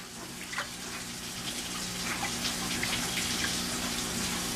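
Water runs steadily into a fish tank through a Python tank cleaner hose, a continuous gushing, faucet-like flow with no voices.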